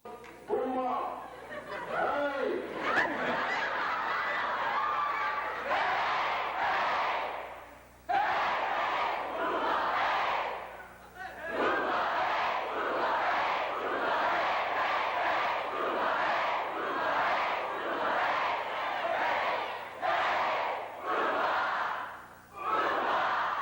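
A crowd of Gahanna Lincoln students chants a teacher's Boomba Hey cheer at a 1988 school gathering, loud massed voices rising in repeated shouted bursts with brief pauses between phrases.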